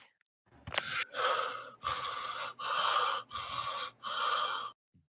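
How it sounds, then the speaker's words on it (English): Heavy, rhythmic breaths through the nose, a sharp gasp followed by five long drawn-out exhalations in steady succession, close and fairly loud with nothing else around them. "I can hear you breathing."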